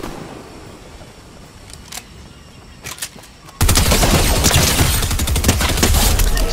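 Shotgun blasts from a Fortnite match: a few sharp, separate shots early on, then a sustained loud burst of rapid gunfire that runs to the end.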